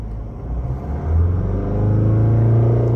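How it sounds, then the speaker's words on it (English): A Mazda 6 with a 2.2 Skyactiv diesel, in safe mode with a timing chain fault code, revs up from idle to a steady hold, a close, low rumble without speech. "If I rev it to 2000, it is already in that safe mode"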